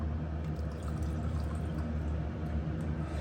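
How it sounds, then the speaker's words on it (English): Celeriac stock pours steadily into a cup with a continuous low liquid rush and faint trickling, close and even throughout, with no voices. "And then very, very simply just pour it into the cup."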